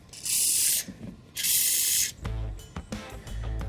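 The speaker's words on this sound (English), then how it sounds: "I'm going to go ahead and spray these bolts" Two short bursts of aerosol penetrating oil spray hiss loudly onto the shock bolts of a 2004 Pontiac Montana, each lasting under a second, followed by some metallic clanks and handling noise.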